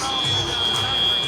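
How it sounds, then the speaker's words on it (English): At a robotics competition, the field buzzer sounds as a steady, loud, high-pitched electronic tone that holds throughout, with background noise and voices from the venue beneath it. "We heard the field buzzer."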